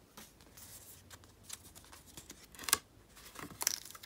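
Rainbow washi tape is peeled off a mail package, heard as quiet scratchy tearing and crinkling with a few sharp rips near the end, close up and without voices.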